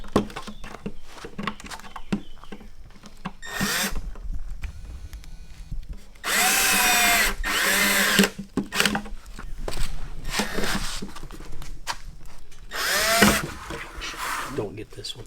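Power drill driving screws to mount a board for a DIY fishing rod rack, heard as several loud bursts of whirring close by, separated by handling noise and brief talk.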